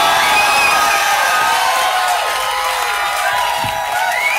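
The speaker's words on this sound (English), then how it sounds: "thunderous applause, if you would, for one of the best bands in the world" A crowd at a live gig for a band at Maida Vale in 1999 roars with cheering, whoops and applause, a loud, continuous wash of voices and clapping with high shouts rising above it.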